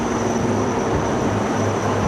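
Two Advanced Light Helicopters passing overhead in line-astern formation at an Independence Day flag-hoisting ceremony, a loud, steady rumbling roar with a broad whooshing wash and a faint high whine, continuous and close.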